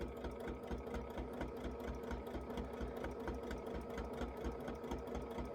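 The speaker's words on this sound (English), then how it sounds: "I'm only sewing through the sashing and the back of the second block." Sewing machine running steadily as it stitches a quarter-inch quilt seam through sashing and the back of a quilt-as-you-go block, a close, continuous rapid needle rhythm with no talk.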